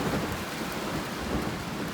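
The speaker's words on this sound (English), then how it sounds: "I think it's starting to rain." Rain begins falling in a steady, dense wash of hiss and patter, with low rumbles that suggest distant thunder, heard alone without voices.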